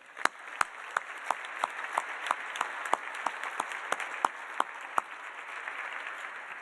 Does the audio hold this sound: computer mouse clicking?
no